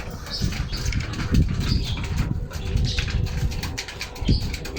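Pigeons being trained to feed at a spot among blossoming fruit trees, cooing and fluttering their wings in soft repeated flaps, with a low rumbling background close by.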